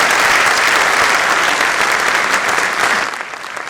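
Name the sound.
audience applause at a mushaira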